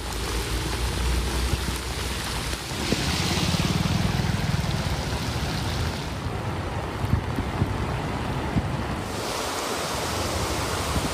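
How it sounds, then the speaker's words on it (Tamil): Heavy rain pouring down in Neyveli, a dense, continuous hiss of rainfall on surfaces with a low rumbling undertone that swells and eases over several seconds, no voices. "இடியுடன் கூடிய கனமழை பெய்தது"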